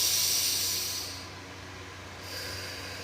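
Deep inhale during a guided breathing exercise: a long, close airy hiss through the nose that swells, dips, then rises again, with no talk over it.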